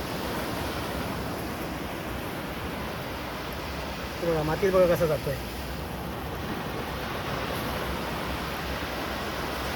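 Sea waves wash steadily on a beach at Tondavali on the Malvan coast, a constant broad rushing surf, with someone talking briefly in the middle.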